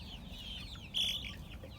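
Roosters cluck softly in the background, with one sharper, higher cluck standing out briefly over a steady low hum.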